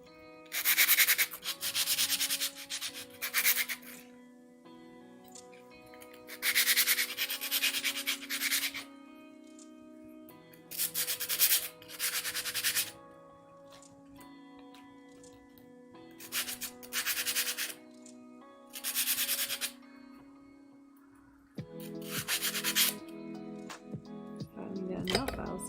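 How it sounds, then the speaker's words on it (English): Something being filed down by hand in bursts of rasping strokes, each run lasting a couple of seconds with pauses between, set over soft lofi music. "if I'm going to spend 5 minutes filing these down"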